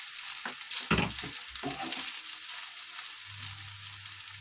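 Sugar is mixed into sweet rice in a pan with a few soft scraping stirs and light clatter over a quiet sizzle, followed by a low steady hum from the stove, close and unhurried, no voices.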